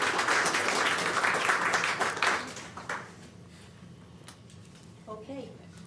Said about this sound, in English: I think they deserve another round of applause, don't you think?